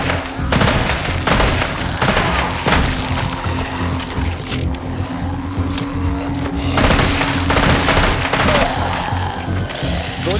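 Loud, sustained gunfire from the zombie VR shooter Arizona Sunshine 2, with rapid bursts and single shots cracking repeatedly across the whole stretch over a steady low hum.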